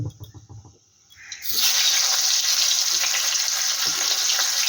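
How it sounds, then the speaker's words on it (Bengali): Tomatoes tipped into a pan of oil with lightly fried nigella seeds: a quiet moment with small clinks, then a sudden loud burst of sizzling that holds steady and close to the end. "একটু হালকা করে কালো জিরা একটু ভেজে নিচ্ছি। আর এখানে আমি দিয়ে দিই টমেটো"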